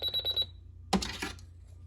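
An Emergency Alert System alert tone, a shrill steady high beep pulsing for about half a second and then cut off, followed by a brief noisy burst that fades out, fairly faint overall.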